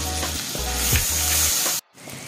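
Ginger garlic paste hitting hot oil in a pan on low flame, giving a loud, continuous sizzle with stirring scrapes that runs about two seconds, then drops away briefly before a softer frying hiss returns.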